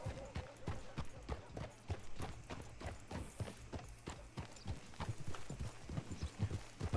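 Horse hooves clip-clop steadily through the Red Dead video game, a brisk rhythmic trot of sharp close hits running the whole stretch over a low background hum.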